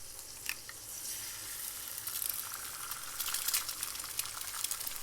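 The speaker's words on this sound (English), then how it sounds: "Get our pan on for our eggs. Crack an egg in there." An egg fries in a pan with a bright, steady sizzle and scattered pops and crackles, close up and fairly quiet, with no talking.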